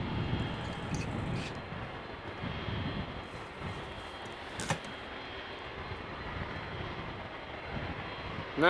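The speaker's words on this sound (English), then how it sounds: "as the 767 is making its way over to the threshold of 18 center" Boeing 767 jet taxiing toward the runway 18 Center threshold at Amsterdam Schiphol, a steady broadband engine rumble with a faint high whine, distant and continuous throughout.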